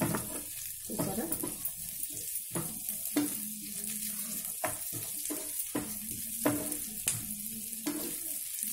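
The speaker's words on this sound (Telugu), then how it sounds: "కిస్మిస్ ఇలాగా బాగా పొంగేటట్టు ఏవితే కదా, అంతవరకు ఇవి కొంచెం జస్ట్ ఇలాగా వేయించుకుందాం." Raisins fry in a pan and give off a steady sizzle and hiss, broken by a regular rhythm of stirring scrapes.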